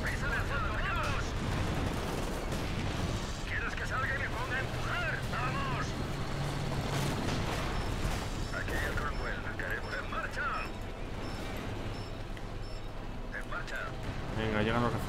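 Rocket artillery explosions in the WWII strategy game Company of Heroes 2, a dense continuous barrage of booms and crackling blasts with someone talking over them throughout.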